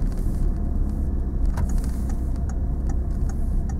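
Car creeping slowly along during a driving lesson, a low steady engine rumble and road noise from inside the cabin, even and continuous with faint interior clicks and rattles.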